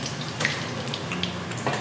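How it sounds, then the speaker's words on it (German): Broccoli deep frying in hot oil gives a steady, close sizzling hiss with faint pops throughout. "während ihr im Brokkoli zuguckt, wie er frittiert."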